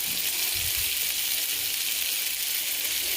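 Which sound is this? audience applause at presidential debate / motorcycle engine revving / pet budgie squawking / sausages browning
sausages browning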